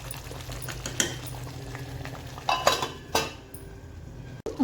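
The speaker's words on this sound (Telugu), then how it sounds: "ఇప్పుడు చికెన్ ఉడికేదాకా లిడ్ పెట్టి క్లోజ్ చేసేద్దాం ఒక 5 to 10 minutes." A lid set onto a pan of cooking chicken in green hariyali gravy, a few metallic clinks and clatters over a low bubbling simmer, close and fairly loud.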